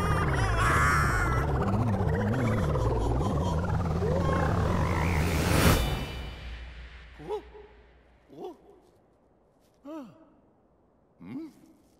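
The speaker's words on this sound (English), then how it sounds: "You captured a frog." A captured frog in Super Mario Odyssey croaks four times in a slow, evenly spaced series of short rising calls, following a dense stretch of game music and effects.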